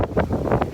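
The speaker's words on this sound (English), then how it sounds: "Wind well out ahead of the storm." Wind gusts roar in short, buffeting bursts on a beach as a cold front pushes downbursts ahead of a thunderstorm, gusting 25 to 30, loud against the microphone.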